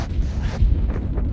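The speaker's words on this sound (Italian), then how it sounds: "Altre esplosioni?" Video game explosions on the Nuketown map, a dense run of heavy booms and rumbling blasts under faint background noise, loud and close with a strong burst partway through.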